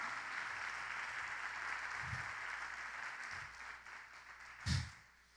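A church congregation clapping hands for the Lord during a Spanish-language sermon, a steady dense wash of applause throughout, with a louder burst near the end before it fades.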